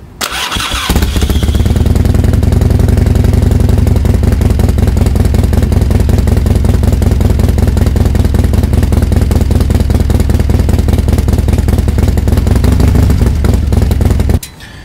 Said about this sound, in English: So I'm going to stand the bike up a little bit before I fire it up